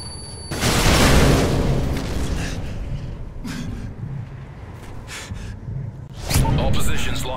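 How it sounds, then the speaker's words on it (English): A Predator missile strike explodes in Modern Warfare 3 Domination on the Dome map: a loud broadband boom erupts near, then rumbles and fades, with a second burst near the end and game voices in the mix. "Friendly Predator missile inbound."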